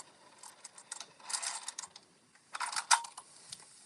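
A sewing machine running a line of top stitching, heard as quiet, close mechanical ticking and clicking in short uneven bursts, with brief pauses between.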